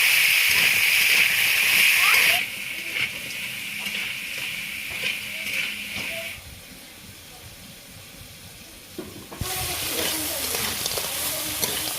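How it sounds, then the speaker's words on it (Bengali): Crabs dropped into hot mustard oil in a pan, a loud sizzle at first that settles into steady frying and crackling, up close, with occasional spatter. "তেলটা গরম হয়ে গেছে, তেলের মধ্যে কাঁকড়াগুলো দিয়ে দেবো,"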